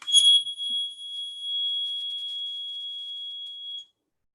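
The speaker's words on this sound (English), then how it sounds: "It's a super high-pitched ringing sound." A piercing, high-pitched sustained ring comes from an object rubbed with hands coated in rosin-like dried tree sap, one steady tone lasting a few seconds after a brief scratchy onset, fairly loud and alone, then stopping abruptly.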